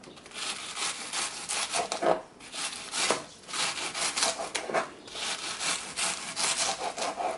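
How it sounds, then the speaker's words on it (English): A knife slices thinly through a head of red cabbage on a cutting board for a salad, making a steady run of close, crisp rasping cuts with a sawing rhythm and no talk. "We're gonna start slicing the cabbage. Thin slices."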